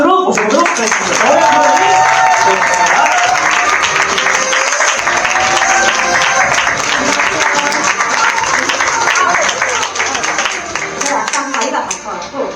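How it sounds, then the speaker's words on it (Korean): Sustained, dense clapping from an audience at a business group meeting, welcoming a lecturer to the stage. The applause is loud and steady throughout, thinning slightly near the end. "마칠 때 큰 박수로 모셔보도록 하겠습니다"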